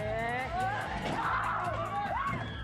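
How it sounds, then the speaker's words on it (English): Stunned onlookers at a van crash scream and yell together in a loud, continuous crowd roar, with rising and falling shrieks layered over a dense wash of voices. "Stunned onlookers started screaming in horror."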